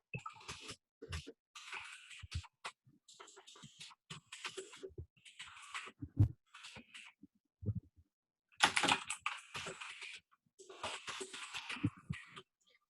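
Loud clacking bursts of typing on a mechanical keyboard, fast irregular keystrokes in several runs separated by short pauses, close up with no talking.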